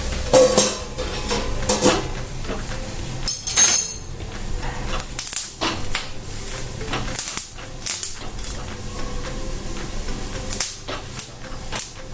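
Steamed green tomatoes turned over in a pan, with repeated metallic clinks and scrapes of a utensil against cookware, louder knocks near the start, over a low steady background with no speech.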